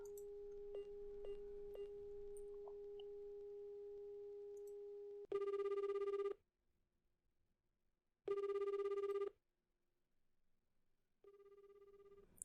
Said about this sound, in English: She could hear the phone ringing, but nobody answered.